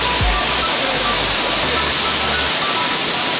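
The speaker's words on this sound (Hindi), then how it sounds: "तो यह है पचमढ़ी बी फॉल, जिसको जमुना प्रताप भी बोलते हैं।" Bee Falls waterfall in Pachmarhi, a cascade of about 20 feet that never runs dry, roars as a dense, steady wash of falling water, loud and close throughout.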